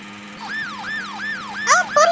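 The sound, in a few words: police car siren in prison escape video game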